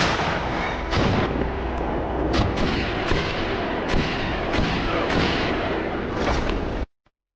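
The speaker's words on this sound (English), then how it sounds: "Reginald is fatally shot while helping defend his home" Rapid gunfire crackles through a dramatized shootout at a besieged homestead, with dense overlapping shots and heavy booms continuing almost nonstop for about seven seconds before cutting off abruptly.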